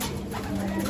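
Pigeons cooing in a breeding loft, a low steady murmur of coos close by and continuous through the short moment, with no talk over it.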